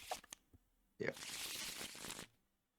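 Cards shuffled in the video game Deck Dads: a few light taps, then a brisk, papery riffle lasting just over a second, close and fairly quiet.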